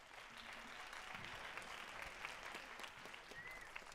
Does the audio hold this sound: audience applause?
yes